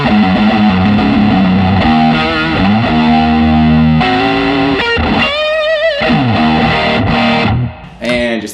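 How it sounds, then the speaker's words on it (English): Heavily distorted electric guitar with DiMarzio pickups set to the middle position plays loud, sustained chords and bending lead lines, running continuously and alone before briefly cutting off near the end. "We'll go in the middle position."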